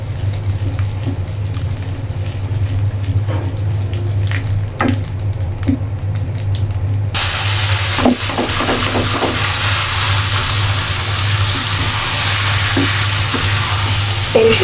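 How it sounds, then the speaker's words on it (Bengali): Panch phoron spices hit hot mustard oil in a pan, bursting into a loud, steady sizzle that stays constant, with spoon scrapes and stirring clatter mixed through the hiss. "সরিষার তেলে পাঁচ ফোড়নটা পড়লে খুব সুন্দর ঘ্রাণ।"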